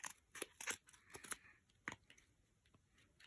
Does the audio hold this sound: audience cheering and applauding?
no